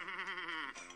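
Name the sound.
goat bleating sound effect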